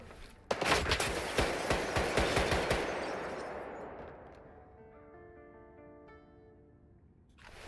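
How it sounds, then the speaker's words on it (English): Automatic gunfire from a weapon in S.T.A.L.K.E.R. 2, a loud rapid burst of shots lasting a couple of seconds, then a long fading echo and ringing tail. "That gun was crazy."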